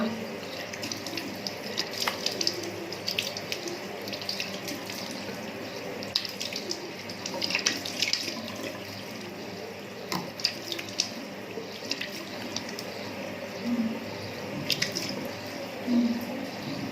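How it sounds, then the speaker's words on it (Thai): Water running steadily from a tap into a sink while someone washes their face, a continuous close splashing with occasional louder splashes throughout. "มาล้างหน้ากันนะคะ"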